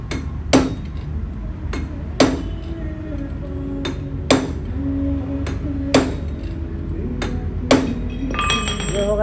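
Sharp metallic clinks from a tool striking a special nut while it is tightened during clutch plate work on a Hero Passion Pro motorcycle, about nine crisp, evenly spaced taps over a low background hum.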